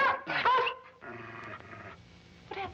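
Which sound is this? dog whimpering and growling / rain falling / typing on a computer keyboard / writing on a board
dog whimpering and growling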